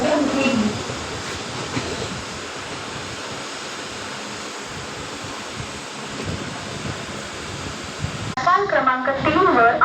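A Mumbai local train runs at a Dombivli station platform with a loud rushing roar and rattle of wagons, steady for several seconds, then a public-address announcement cuts in over the noise near the end.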